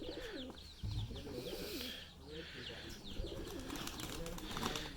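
Pigeons coo repeatedly near chickens on a farm, where maize kernels have been put out, soft rolling calls overlapping in a steady rhythm against a busy background of other bird chirps and faint rustling.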